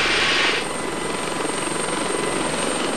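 A helicopter landing near an accident on a building site, its rotor and engine roar loud and close and steady throughout, a little louder at the start.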